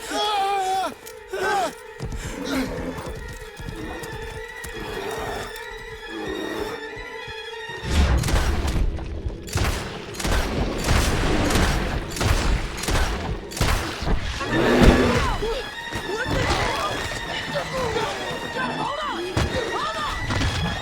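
Gunfire in the Red Dead Redemption 2 video game, with a rapid volley of sharp shots and crashes following a quieter stretch of music and ambience, close and loud.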